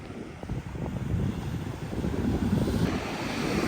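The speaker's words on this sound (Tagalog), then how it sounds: "At mahangin ngayon." Wind gusts across a seashore, a loud rushing roar buffeting the microphone with surf rumbling underneath, building slightly and staying steady, no talking.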